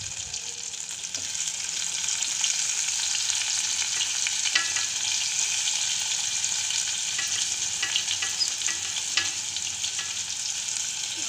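Onions hissing and sizzling steadily in hot oil alongside eggplant for an Andhra-style stuffed brinjal curry, with occasional faint clinks of stirring through a continuous close frying noise.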